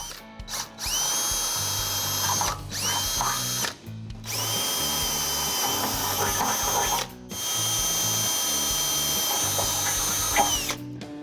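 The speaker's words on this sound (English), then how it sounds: "You can now fully drill out the pilot holes." A power drill whirs in several sustained bursts while fully drilling out pilot holes, stopping briefly between runs, loud and close with no talking.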